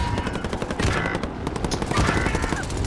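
Dense automatic gunfire from the video game Call of Duty: Modern Warfare, rapid overlapping bursts and shots firing continuously and loudly throughout.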